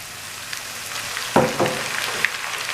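Chopped tomato and green chillies frying in hot oil over a garlic-ginger paste for a black chana curry, giving a soft steady sizzle with a couple of sharper crackling bursts partway through.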